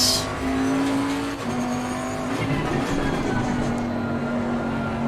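A Bentley race car engine in Assetto Corsa Competizione holds a steady, loud drone near at hand that shifts pitch slightly as the car runs through corners, with faint tire noise and no voices.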